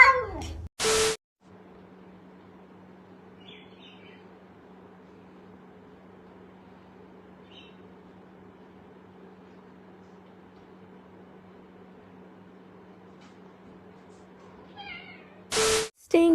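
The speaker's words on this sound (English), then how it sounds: "My cat getting impatient while waiting for me to turn on the faucet." An impatient cat waiting for a faucet to be turned on. Short, sharp meows open and close the clip, with fainter mews between them over a low, steady background hum.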